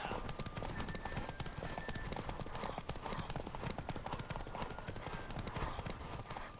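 Horse hooves clip-clop in a fast, steady gallop through The Witcher 3 game, the beat rapid and continuous over a dense wash of wind and background music, with a brief whinny possible.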